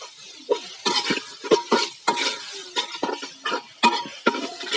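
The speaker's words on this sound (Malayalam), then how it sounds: "ഈ സവാള നന്നായിട്ട് മൂത്ത് നല്ല ബ്രൗൺ നിറത്തിൽ വരണം" Onions fry in a pan toward brown, their soft sizzle broken by repeated close scraping and clinking of a spoon stirring against the metal in an uneven rhythm, with no voices.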